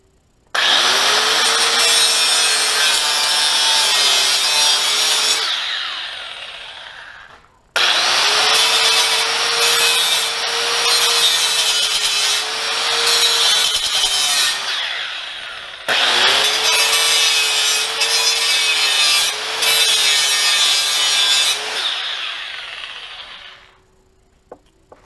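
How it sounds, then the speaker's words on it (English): A stainless steel wire brush scrubs an aluminum skid plate in three long bursts, loud and close, with a harsh, bristly rasp, each burst several seconds long and separated by brief pauses. "Stainless steel wire brush."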